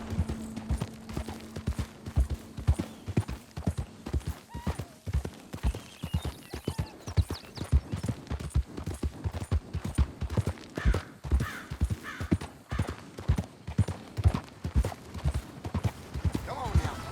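Hooves clop in a steady galloping rhythm as a horse runs in Red Dead Redemption 2, close and regular throughout, with occasional spoken words over the hoofbeats.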